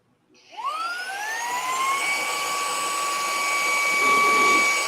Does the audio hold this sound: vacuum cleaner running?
yes